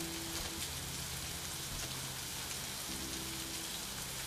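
Steady rain hisses continuously on a surface, with a faint low hum underneath and no voices.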